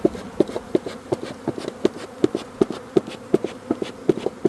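A strongly active colony of honeybees buzzes around an open hive on a hot day, a dense steady hum close by with repeated sharp taps and knocks at a regular pace and no voices.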